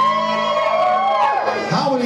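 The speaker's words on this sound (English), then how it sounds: "How many people have been here before? Just yell out." An audience at a live music show at The Live Oak yells and whoops loudly. Several raised voices overlap in rising and falling shouts throughout.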